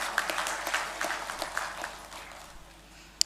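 A large audience at a university engineering induction program claps in sparse, faint applause that fades out, ending on one sharp knock.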